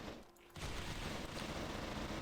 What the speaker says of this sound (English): he's on the fucking light machine gun, light 'em up